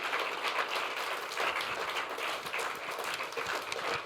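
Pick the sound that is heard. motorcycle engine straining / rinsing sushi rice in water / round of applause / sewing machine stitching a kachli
round of applause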